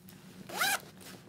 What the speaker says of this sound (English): Let's go ahead and zip those up.